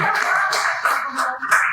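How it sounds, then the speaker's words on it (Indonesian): An audience at a comedy audition show claps, a dense burst of applause with rapid overlapping hand claps, close and steady for under two seconds. "Tepuk tangan buat Firman Indonesia"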